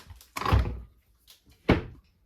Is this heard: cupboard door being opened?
yes